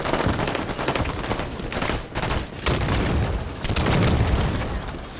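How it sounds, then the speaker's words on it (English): Dense, continuous video game gunfire and booming explosions roar without pause, a chaotic barrage of blasts and rapid shots filling the whole stretch. "Ow, so many explosions."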